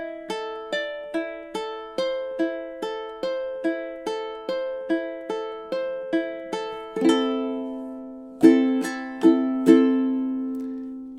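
A ukulele plays measures 18–20 of The Last of Us main theme, the second ending of melody C: evenly spaced plucked single notes ring out close and clear, then give way to a few fuller strummed chords near the end.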